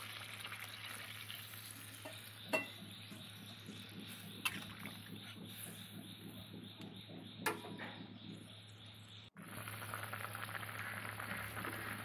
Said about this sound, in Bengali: এবার দেখো ঝোলটা ফুটে উঠেছে।